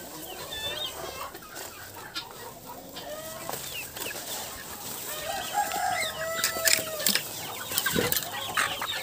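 Chickens clucking around a garden with strawberries, a busy mix of short clucks and chirpy calls from several birds, close by and growing livelier toward the end.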